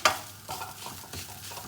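Close-up sizzling of corned beef frying in a hot pan with a utensil scraping and stirring, including a sharp clink at the start.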